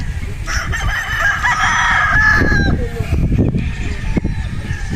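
Gamefowl on a breeding farm, with a rooster giving a long, loud, nearby crow, then hens clucking and further short calls from the flock, plus faint human voices in the background.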